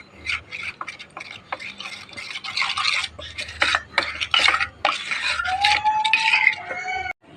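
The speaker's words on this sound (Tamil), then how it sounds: "ஒரு ஸ்பூனு கார்ன்ஃப்ளவர் மாவு போட்டு நம்ம நல்லா கலக்கி கட்டை இல்லாமல் கலக்கி எடுத்து வைக்கலாம்" A spoon scrapes and clinks rapidly against a bowl, stirring cornflour into milk in quick repeated strokes up close, with no voices.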